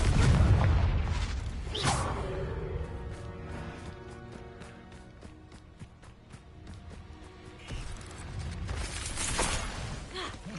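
An explosive spell cast in Hogwarts Legacy: a loud boom at the start, followed by whooshing bursts and clattering game effects, with a second burst near the end.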